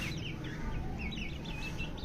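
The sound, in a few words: chicken clucking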